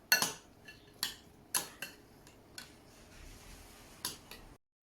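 A utensil scrapes and clinks against a pot while ingredients are stirred in, giving a run of sharp metallic taps spaced irregularly, close and fairly quiet.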